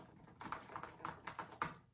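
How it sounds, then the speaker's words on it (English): Keys struck on a 2016 MacBook Pro keyboard, a quick series of about eight sharp, clacky taps in uneven rhythm, close and fairly quiet, with no other sound around them. "let me just bang the keyboard a little bit so you can hear what it's like"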